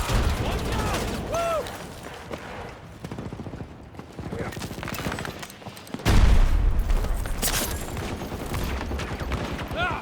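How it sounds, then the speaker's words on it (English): A grenade goes off in a shooter video game, a sudden heavy boom about midway after scattered gunfire, followed by lingering loud battle noise and faint voices. "Tossing grenade."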